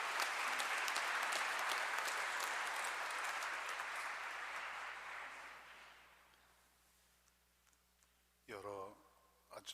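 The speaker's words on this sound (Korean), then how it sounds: "큰 박수로 추기경님을 맞이해 주시기 바랍니다." Audience applause welcomes a newly installed cardinal at a Catholic thanksgiving Mass, a loud sustained ovation that fades over several seconds into quiet room tone, followed by a brief voice near the end.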